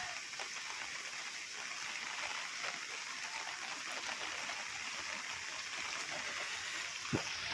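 Rain and wind from Cyclone Remal in a village with broken trees, a steady faint hiss of falling rain and water, heard from a distance without talk.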